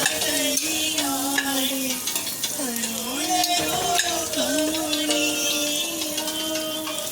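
Broad beans, paruppu and rice are stirred with salt in a pot, giving a steady scraping and sizzling stir. Sustained tonal sounds run underneath it throughout.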